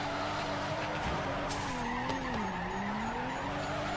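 A car drifts around the Gingerman track in the video game Torque Drift, tires squealing in a long wavering skid over a steady engine drone, loud and close, with no talk.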